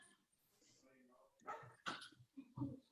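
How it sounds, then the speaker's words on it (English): A pet dog barks a few times in the distance, faint and brief, during a lively online trivia game, with people talking over it. "Why is our dog barking?"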